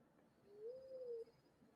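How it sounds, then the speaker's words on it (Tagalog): Negros Bleeding Heart Dove, an endemic Philippine forest bird, giving a single soft, drawn-out low coo that rises slightly and fades, heard alone against a quiet background. "Ang tinatawag nating Negros Bleeding Heart Dove."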